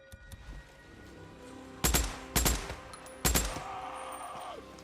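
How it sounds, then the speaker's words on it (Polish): Gunfire in the video game Days Gone, fought against a horde: three loud, sharp bursts of shots a fraction of a second apart, rising out of a quiet background of low game ambience. "nie wracają się mimo wystrzałów"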